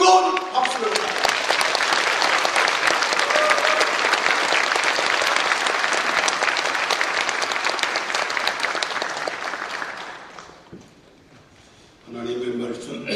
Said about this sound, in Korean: 격려의 뜨거운 박수를 부탁드립니다